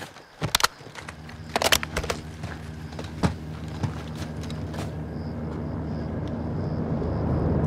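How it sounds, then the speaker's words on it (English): A helicopter approaches in the video game Call of Duty Modern Warfare II, a low rumble that grows steadily louder under a faint whine, after a few sharp early bangs. "Got a heli incoming. Looks like a supply dropper."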